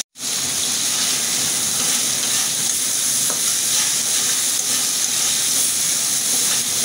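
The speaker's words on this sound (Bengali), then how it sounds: "হলুদ দিয়ে দেব, একটু মরিচের গুঁড়ি দেব, লবণ দেব। এটাও আমি সুন্দর করে কষিয়ে নেব।" Turmeric, chili powder and salt sauté in hot oil in a pan, giving a steady, loud, close sizzle and hiss that starts abruptly and continues without pause, with no talking.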